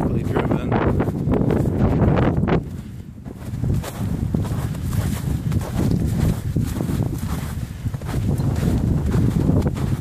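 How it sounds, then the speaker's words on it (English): Wind gusts buffet the microphone outdoors on a cold day at a chain link fence installation, a loud continuous rushing roar with brief dips and choppy bursts, with no talking. "It's a little windy out."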